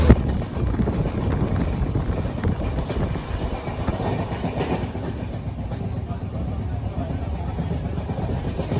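Steady rumble and clatter of a moving train carriage on a Kerala to Goa journey, continuous and fairly loud, with wind buffeting throughout.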